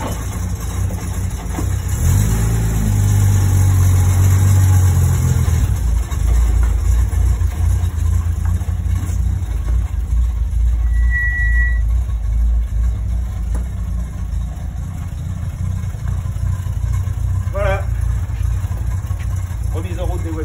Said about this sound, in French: une fois qu'il tient le ralenti, vous la laissez tourner